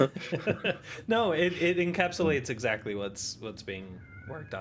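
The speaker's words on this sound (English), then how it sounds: "Apologies if you hear my crying cat." A crying house cat meows plaintively a few times in a room, the calls close and clear and mixed in with a person talking over them.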